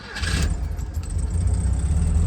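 A 1973 VW Karmann Ghia with an air-cooled engine and electric fuel pump cranks briefly and catches, settling into a close, steady low rumble of idle with no talk.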